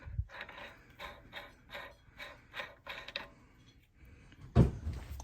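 Ratchet tightening a nut on a 2010 5.7-litre Hemi engine being fitted to a 2011 Dodge Charger, with a regular run of about eight close ratcheting strokes, a short pause, then a louder clunk and rattle.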